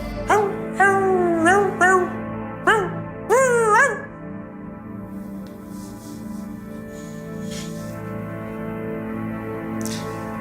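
A dog gives a quick run of close, loud barks that bend into whining whimpers, five or six bursts in the first four seconds, followed by a steady low hum with faint scattered sounds.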